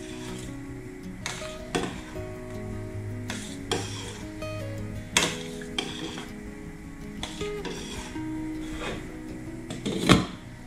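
Varenyky dumplings stirred now and then in a pot of boiling water, with soft scraping and bumping strokes against the pot and a steady low bubbling underneath, no talking.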